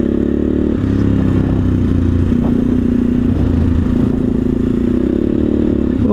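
An SWM SD 650 X motorcycle power slides through an off-road corner on worn tires, its single-cylinder engine droning and revving close up with gravelly scrabbling and clatter underneath.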